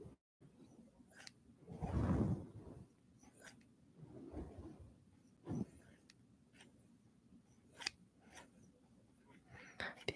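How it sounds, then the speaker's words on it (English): Several short, crisp snips spaced irregularly, like scissors closing, over a soft hum with a brief murmur of movement early on. "These scissors sound cool."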